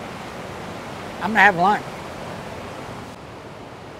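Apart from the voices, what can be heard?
flowing creek water in the woods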